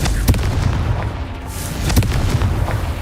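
A Confringo spell blast booms in Hogwarts Legacy amid a dense, noisy duel soundscape, with a couple of sharp percussive bursts standing out over a continuous rumble.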